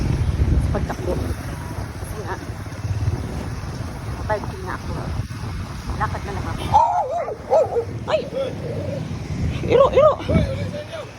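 Dogs bark along a road in Butuan City during a 5 km run, with sharp barks and yips standing out mostly in the second half, mixed with wind noise on the microphone and a runner's voice throughout.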